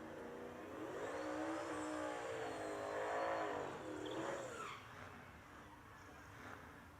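A hot rod drag racing car roars past at speed, its engine note climbing and then dropping as it goes by. The sound is distant and moderately loud, then fades to faint background noise.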